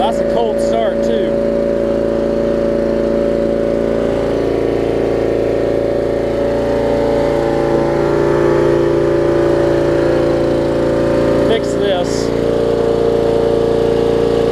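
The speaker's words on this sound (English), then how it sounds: "Let's crank it up. That's a cold start too." Thirty-year-old Murray riding mower with a Briggs Vanguard engine running steadily after a cold start, a loud, even mid-pitched drone close by throughout, with brief voices over it.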